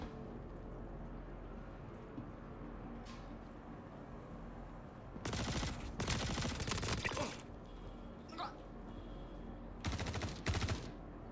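Video game gunfire cracks out in dense, loud bursts of rapid shots, two clusters separated by a quieter stretch of low background rumble, with faint isolated pops in between.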